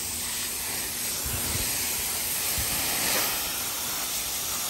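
A pressure washer sprays water over landscaping ground outside a house in Tennessee, giving a steady, continuous hiss of spray at close range with a few faint thumps underneath.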